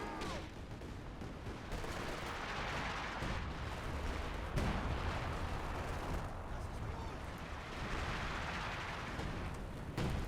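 Stuka dive bomber strikes in the real-time strategy game Company of Heroes 2, heard as dense rolling explosions and rumbling blasts layered over constant battle noise, loud and sustained with swelling surges, partly under a commentator's voice.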